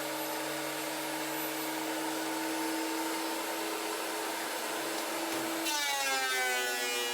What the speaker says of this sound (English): It is really satisfying using this machine to see the wood come out just absolutely smooth and perfect